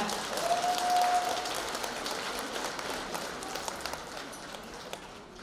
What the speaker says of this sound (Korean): 이쁘다면 박수 한번 부탁드리겠습니다